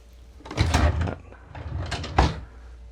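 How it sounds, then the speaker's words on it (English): Wooden drawers in the salon of a 2004 Cheoy Lee Bravo 84 yacht slide open and shut in two close, distinct rounds of sliding and knocking, with no talking over them. "Drawers operate okay."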